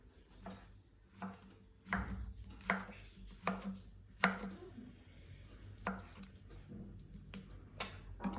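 A knife chops ripe bananas on a cutting board, about a dozen sharp, quiet taps at an uneven pace, close up with no talking.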